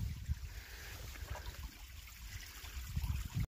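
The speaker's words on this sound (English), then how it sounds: "So I guess there is a little bit of water here." Faint trickle of a small stream of water running through a creek washout, a soft, uneven babble heard close up and quiet, with no voices.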